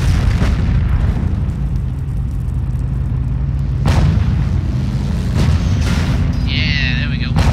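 Gunfire and explosions in Company of Heroes: Opposing Fronts, from a British campaign fight near Authie involving an anti-tank half-track: heavy, continuous battle rumble broken by sharp booming shots at about 0.5, 3.9 and 5.4 seconds, with a high whine near the end.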